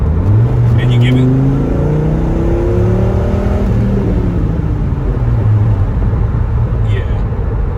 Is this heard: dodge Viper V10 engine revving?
yes